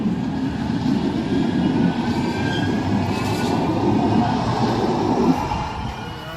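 A Manchester Metrolink tram rolls along its rails with a steady low rumble and faint wheel squeal, heard from inside and sustained without pause, with no talking.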